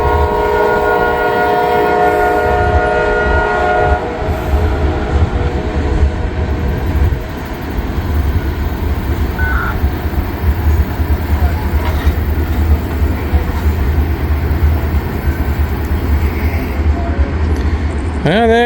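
Amtrak train at the Ashland station, its horn sounding in sustained blasts at the start over a heavy low rumble of rolling cars that continues steadily, with a person speaking over the noise.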